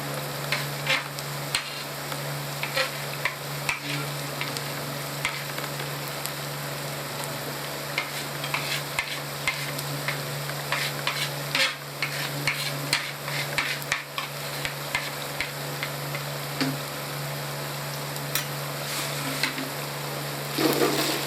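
Green chilies frying in a pan for masala tinde, giving a steady, even sizzle with scattered stirring clicks and scrapes throughout, close and moderately loud with no talking.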